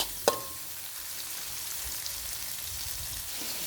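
Khajorn flowers stir-fried with pork and egg in a pan give a steady, close sizzle of frying throughout, broken by one sharp clink of a utensil near the start.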